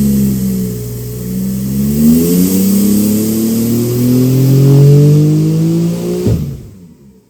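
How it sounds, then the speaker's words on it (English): A tuned 800 hp Porsche 992 Turbo S roars under load on a dyno, rising steadily in pitch as it climbs through the revs, loud and close, then cuts off abruptly into silence. "So we just got done with a dyno run"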